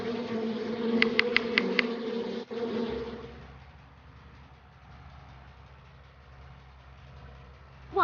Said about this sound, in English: Oh, the bees won't let us through.